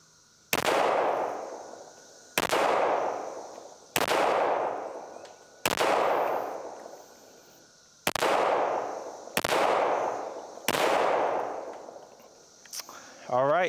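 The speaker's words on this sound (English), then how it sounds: "it does have a heavier trigger than the Rock, but it just feels so crisp to me that it kind of begs you to shoot it faster." A PSA 5.7 Rock pistol fires seven loud, sharp shots outdoors at a steady, fairly quick pace, each crack trailing off in a brief ringing echo.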